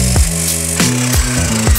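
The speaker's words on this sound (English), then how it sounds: "To cut the unit strat, I'll be using a miter saw." A miter saw cutting steel Unistrut channel for a forklift solar mount, loud and close, with repeated rhythmic rasping strokes about three per second.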